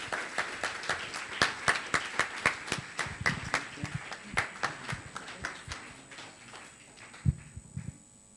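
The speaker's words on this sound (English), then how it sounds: "please can we make a big round of applause for the keynote speaker of the day" An audience at the EMSON 2022 medical conference in Nigeria claps for the keynote speaker, producing steady, fairly sparse handclaps that carry on for several seconds before thinning out near the end.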